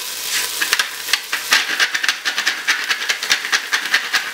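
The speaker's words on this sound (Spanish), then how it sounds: "Mientras se está sofriendo la verdura" Vegetables sautéing in oil over medium heat as the base for a traditional Extremaduran tomato soup, a loud close sizzle with rhythmic bursts as the pan contents are stirred and shifted, continuous throughout with no voices.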